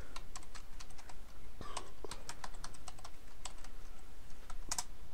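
Password being typed on a computer keyboard: a steady run of light, close key clicks with a brief pause midway and a quick cluster of taps near the end, no voice.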